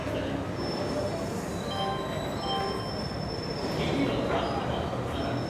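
The Krishna Express rolls into a railway station on a quiet morning, its wheels squealing in high sustained tones over a continuous close rumble of rail cars, with faint voices in the background.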